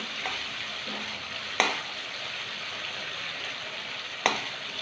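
Chopped onion and chili fry in a small amount of oil for a catla fish oil dish, giving an even soft sizzle broken by two sharp spatula knocks against the pan.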